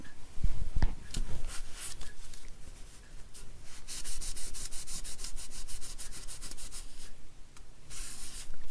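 A wet wipe rubbing briskly over a glued paper craft surface, close and continuous scrubbing strokes in quick rhythmic bursts.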